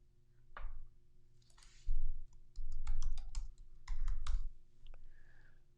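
Computer mouse clicks while working in OBIEE software, a series of quiet, sharp clicks, some single and some in quick clusters, near and alone without talk.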